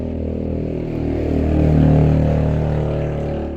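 A loud motorcycle idles and revs outside, a steady engine drone that swells around the middle and then eases back slightly, with no one talking over it.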